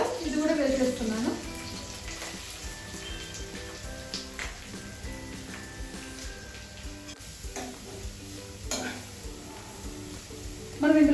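Beetroot and other vegetables sizzling in a pan while cooking beetroot fried rice, a steady soft frying hiss running underneath someone talking throughout.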